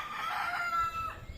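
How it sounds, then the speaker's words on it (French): A rooster crowing, one drawn-out call that rises and holds before trailing off, fairly clear and heard alone with no talk over it. "Coq l'a chanté, cocorico"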